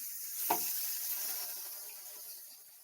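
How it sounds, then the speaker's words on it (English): Chicken pieces sizzle in a frying pan while cooking for a sandwich, a steady faint hiss of frying oil with one brief louder pop near the start, heard alone without talk. "But you hear that? Okay. Sizzle, sizzle."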